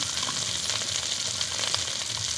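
Turmeric powder and other spices hit hot oil in a pan while a fish roe curry is being made, giving a steady, close, continuous sizzle and crackle with no voices over it.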